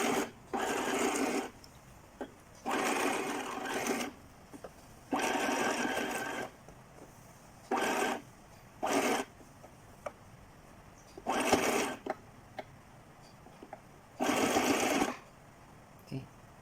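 A sewing machine stitching a dress under repair, running in short bursts of several seconds separated by pauses, with a person talking quietly between the runs.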